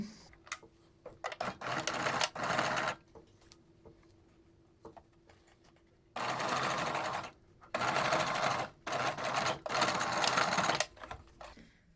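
Domestic sewing machine tacking down face mask fabric, running in several short loud bursts with quiet gaps between them, close and clear.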